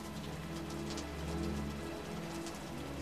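Steady rain falls throughout, a dense even patter on surfaces that stays at moderate loudness with no voices.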